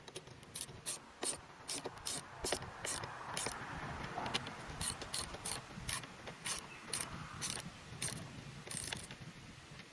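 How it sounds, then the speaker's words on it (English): A socket ratchet clicks in steady rapid bursts as bolts are tightened on a Ford Bronco, each stroke giving a short metallic pawl rattle, close and fairly quiet, repeating about a dozen times. "then we grab our socket and tighten them the rest of the way down."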